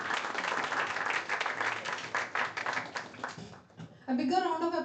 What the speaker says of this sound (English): A bigger round of applause, please.